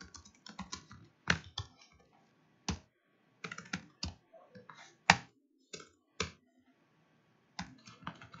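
Keys clatter on a computer keyboard in short, uneven bursts with louder isolated strokes and brief pauses, close and fairly quiet with no talking.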